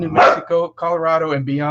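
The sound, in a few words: dog barking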